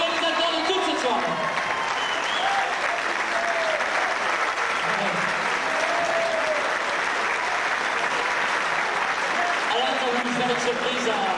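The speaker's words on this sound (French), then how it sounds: "je vous demande d'applaudir" A crowd at a full-contact kickboxing exhibition evening applauds to welcome the event organiser, sustained clapping throughout with a few voices talking over it.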